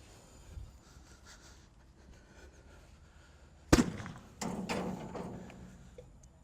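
An Elide Fireball fire extinguisher ball bursting in a fire: a single sharp, loud pop after quiet crackling, followed by a whooshing burst and hiss that fades, with no voices.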